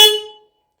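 A single short beep from the horn of a Moto Guzzi V85 TT adventure touring motorcycle, loud and close, a bright tone that rings briefly and fades within half a second.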